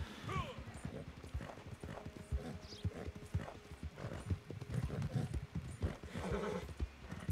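Horse hooves clip-clop in a rhythmic walking gait in the video game Red Dead Online, with a horse whinnying and a voice talking over parts of it.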